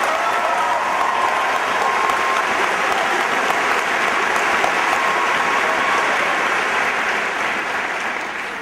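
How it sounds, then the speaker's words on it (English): A high school graduation crowd gives a long, dense round of applause, steady and full throughout with no break. "let's give them a round of applause as well"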